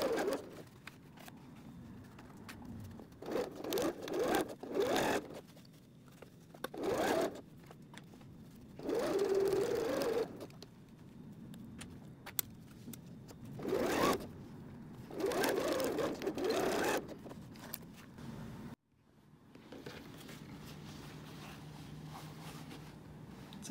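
A sewing machine backstitches seams on a cork pencil case in several short motorized bursts separated by pauses, with a steadier low hum near the end.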